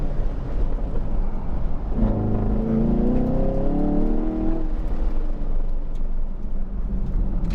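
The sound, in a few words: Camaro SS 1LE engine revving during autocross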